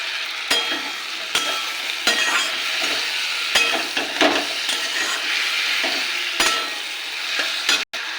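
Ginger, tomato and green chilli paste sautéing in a pan for a fish-head chhechra, with a continuous close sizzle and sharp scrapes of a spatula against the pan every second or so.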